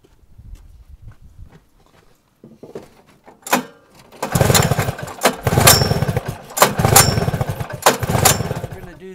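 An old late-1970s Suzuki XR400 single-cylinder engine is cranked over during a compression test, giving a run of loud, rhythmic chugging pulses after a few quieter knocks and handling sounds.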